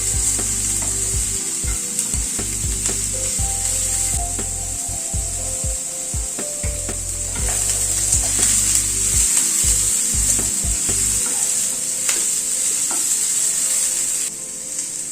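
Onion and capsicum fry over a raised gas flame, a steady sizzle under repeated scraping and stirring strokes of a spatula against the pan, continuous and close.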